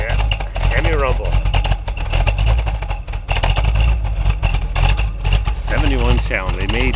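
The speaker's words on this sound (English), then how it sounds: "Crank that baby up. Yeah, Hemi rumble." A 1971 Dodge Challenger R/T Hemi with 16,000 miles idles in a deep, loud, steady rumble while someone talks over it.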